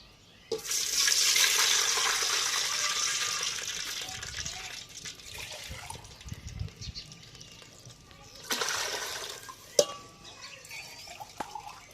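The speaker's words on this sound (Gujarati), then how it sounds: "ગરમ તેલમાં આપણે 5 કરસિયા પાણી નાખવાનું છે." Water poured into hot oil in a pot while preparing dal rice, a loud rushing pour and hiss that fades after a few seconds, followed by quieter bubbling and a second brief burst of splashing.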